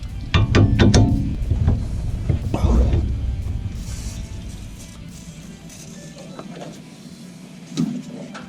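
A ratchet works out two 18 millimeter bolts on a racecar drivetrain, a burst of close, quick clicking at first, then scattered metallic knocks and softer handling noises that fade toward quiet.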